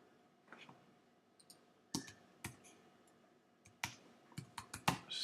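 Keys clatter on a computer keyboard in short, uneven bursts of clicks, with pauses between runs and a sharper cluster of taps near the end, set against a quiet room.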